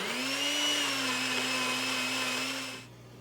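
A blender purees duckweed and cucumber into fish food with a steady, fairly loud motor whir that holds for nearly three seconds and then cuts off. No speech.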